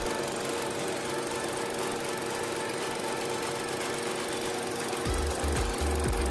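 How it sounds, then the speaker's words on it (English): A 2022 Kia Sonet's 1.5-liter engine idling with a steady buzzing drone like a lawnmower, close and continuous, with some low thumping near the end. "The engine sounds like a lawnmower. Just at idle, it sounds like a lawnmower."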